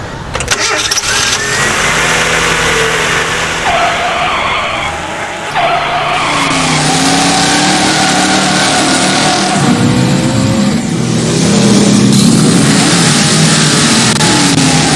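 A 1989 Mazda 323 five-speed with a 1.6 liter engine cranks, fires up and revs hard, rising and falling through loud repeated throttle blips close by.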